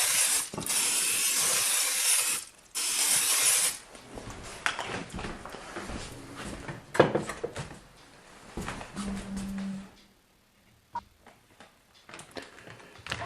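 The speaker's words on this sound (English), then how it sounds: "spray the inside of your crock pot or slow cooker to make it so it won't stick" Cooking spray hisses in two steady bursts inside a crock pot slow cooker, loud and close, followed by quieter clatter and handling noises.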